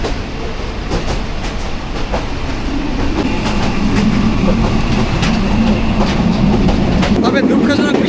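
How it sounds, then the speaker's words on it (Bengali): The Dolonchapa Express rolls slowly along, its carriages giving a steady rumble with repeated clickety-clack beats from the rails, loud and close throughout. "ট্রেনের বেশি স্পিড নাই, মানে খুবই ধীরে যাচ্ছে"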